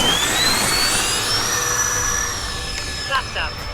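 An FMS A-10 Warthog 1500mm RC jet whines steadily as it comes in to land, its high turbine pitch gliding slowly downward, with the engine note dropping slightly near the end.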